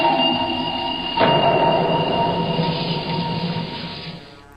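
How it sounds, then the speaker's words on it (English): Loud, steady rumble of a steam train in a flight-simulator setting, a sharp onset after about a second, then a sustained roar with a high whistle-like tone that fades out near the end, no talking. "He's driving a steam train at the moment."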